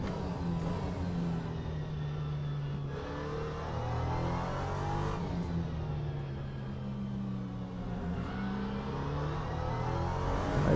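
An LMP3 prototype race car engine in Le Mans Ultimate, circling Silverstone, revs rise and fall steadily as the car accelerates between gear changes, a loud continuous engine drone with no talking.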